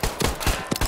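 Rapid pistol gunshots in a video game, about five sharp, loud cracks fired in quick succession within under a second, close and punchy.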